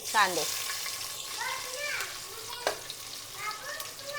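Bay leaves dropped into hot oil for chicken biryani in a home kitchen, giving a faint, soft sizzle with small crackles and a stir or two, while a voice speaks quietly in the background.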